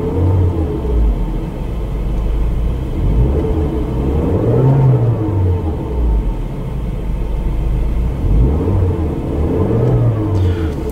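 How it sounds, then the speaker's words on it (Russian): A 2010 Mercedes-Benz A180 W169 engine revs smoothly up and down twice, loud and close, its steady idle rumble climbing into a rising whir before settling back, with no voices. "Очень плавно набирает обороты."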